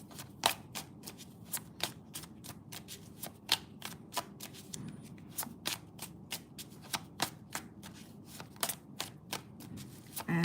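A deck of oracle cards being shuffled close up, with quick crisp riffles and flicks repeating steadily throughout, soft and alone with no talking.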